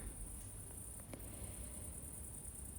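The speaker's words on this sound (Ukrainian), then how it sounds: "Тут з нами багато цвіркунів." Crickets chirp in a steady, high, unbroken trill on a quiet evening at a country house, faint and continuous with no voices.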